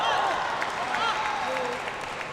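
A stadium crowd at a men's team table tennis semifinal claps and cheers steadily, a dense wash of applause under a commentator's voice.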